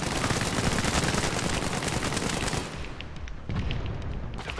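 SAW machine gun in a milsim video game firing a long, rapid sustained burst, loud and dense for nearly three seconds, then a brief lull before a second burst resumes.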